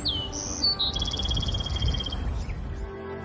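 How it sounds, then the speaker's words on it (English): Outside a home in Texas, a few birds give short high chirps and whistles, fairly faint over a low outdoor rumble. "you can hear the birds chirping and the trees."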